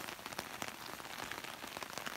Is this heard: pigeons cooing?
no